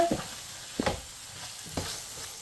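Veg pasta with mayonnaise being stirred in a pan over a low gas flame, three distinct scraping stirs over a soft background sizzle, close and unaccompanied by talk.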